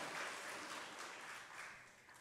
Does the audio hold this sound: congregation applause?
yes